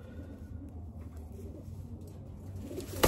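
Racing pigeons at a long-distance race loft coo in a soft, steady low murmur, close by, with faint background noise and no clear speech.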